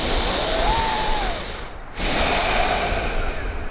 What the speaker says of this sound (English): Keep that tension and take another deep breath.